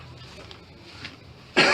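A single sharp cough bursts out at close range at the very end, after a stretch of quiet room tone during a spoken sermon.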